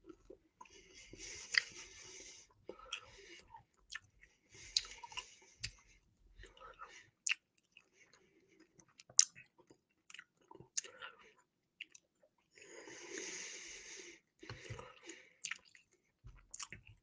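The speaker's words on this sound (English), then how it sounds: "All right, let me have a chewing gum." Gum being chewed close to a microphone comes through as intermittent wet, squishy smacks in irregular bursts with quiet gaps, alongside soft whispering.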